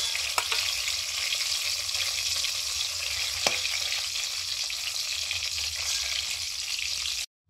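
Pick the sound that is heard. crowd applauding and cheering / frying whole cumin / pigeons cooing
frying whole cumin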